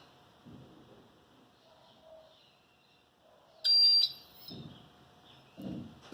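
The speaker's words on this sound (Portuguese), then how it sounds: "E o LEDzinho vai apagar e vai bipar." A single loud electronic beep from a homemade soldering-iron timer rings out briefly over a quiet background with faint low rustling and soft thumps.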